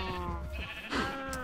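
Minecraft sheep bleating, two or three nasal, wavering bleats in quick succession, close and clear, with no talk.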